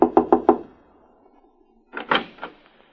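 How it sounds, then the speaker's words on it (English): Four quick, loud knocks on a hotel room door in a radio drama, followed after a short pause by a few more knocks, close and with nothing else around them. "I'll knock on the door."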